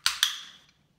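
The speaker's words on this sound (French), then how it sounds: "c'est ce qu'on appelle un clicker." Two sharp clicks from a handheld dog-training clicker, close and crisp, a quick double snap followed by a brief fading ring and then quiet.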